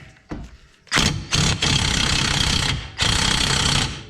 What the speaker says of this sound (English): Let me grab my impact.